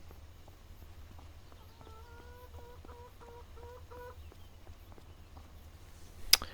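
Chickens clucking in the video game Farming Simulator 25, a short run of regular clucks in the middle over a steady low hum, followed by a sharp click near the end.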